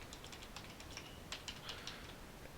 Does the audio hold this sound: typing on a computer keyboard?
yes